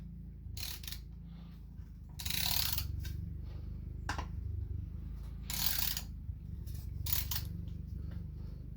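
Bolts are ratcheted snug on a Honda Accord transmission during a rebuild. Several quick bursts of ratchet clicking, some short and some longer, sit over a steady low background hum, close and moderately loud.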